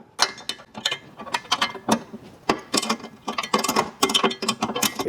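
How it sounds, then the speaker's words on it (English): Wrenches tightening a bolt and nut on a ditch light mount for a 2024 Ford Ranger Raptor, giving close, irregular metallic ratcheting clicks and taps in quick bursts with no talking. "And now we're going to use wrenches to tighten the bolt and nut."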